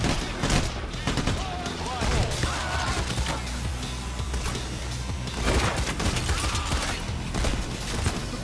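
Gunfire during a heist in the game Payday: The Heist, sniper shots among heavy crackling bursts, loud and near, rising in several peaks, with voices and chaotic game noise underneath.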